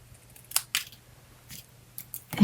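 Scissors cutting coral craft paper make a few short, crisp snips spaced irregularly over a couple of seconds, close to the listener with a faint low hum beneath.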